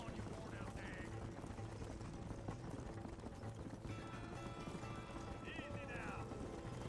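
Horse hooves galloping in the Red Dead Redemption video game, a steady rapid clip-clop running continuously under dense game music and effects, with occasional character voices.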